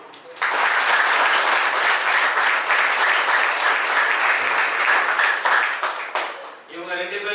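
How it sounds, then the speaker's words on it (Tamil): An audience at a motivational speech event bursts into loud, sustained applause honoring Louis Braille's mother, the dense clapping holding steady for several seconds before fading as a voice resumes speaking. "அதுக்கு நம்ம யாருக்கு கைத்தட்ட போறோம்னா"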